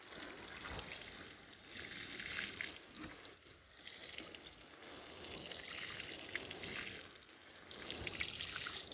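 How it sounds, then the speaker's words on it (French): Onion plants in a garden bed being watered, a steady wash of running, splashing water that rises and dips over several seconds with no talk. "essayez d'arroser bien"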